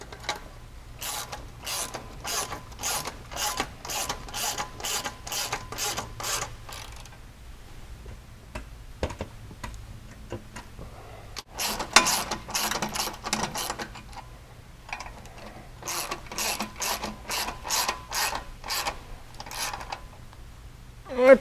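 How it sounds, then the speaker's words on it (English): A hand ratchet clicks in quick repeated strokes while tightening bolts on UHMW belly skid plates of a 2019 Polaris Ranger 1000 Crew UTV, in several runs with pauses between, close and moderately loud. "once you're satisfied with where it's sitting, you go ahead and just tighten it down"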